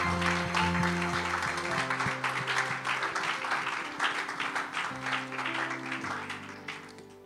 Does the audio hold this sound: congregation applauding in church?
yes